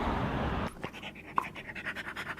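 A dog pants close to the microphone in quick rhythmic breaths after a burst of rushing noise stops, each breath short and regular, with a small click partway through.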